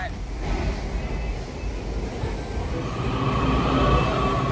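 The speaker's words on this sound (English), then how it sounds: "Sorry, it's like really loud because we're on the metro," Loud, steady rumble and roar of a subway train riding on the Washington DC metro, a continuous rolling drone that swells slightly toward the end, heard from inside the car.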